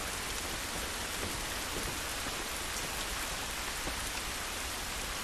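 Rain falls steadily in The Last of Us Remastered on PS4, a dense, even hiss of drops on surfaces that continues without pause and without speech.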